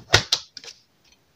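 Paper scrapbooking card being cut for a grandfather's day card, giving two sharp close snips followed by a softer cut and a faint final click, with no talking.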